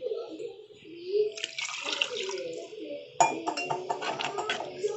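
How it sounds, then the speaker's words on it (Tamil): Water pours and splashes into a pot of Kerala-style sardine curry in two bursts, a short pour followed by a longer, louder stream with a clink of the vessel. "தேவையான அளவுக்கு தண்ணி ஊற்றி நம்ம கொதிக்க வச்சுக்கலாம்."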